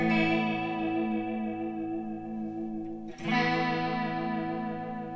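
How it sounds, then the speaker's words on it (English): An Enya Sonic guitar rings out with a deep, swirling chorus effect, sustained chords wavering and then a fresh strum just past the midpoint that blooms brightly before fading, with no talking. "the chorus increases as I change it on the app"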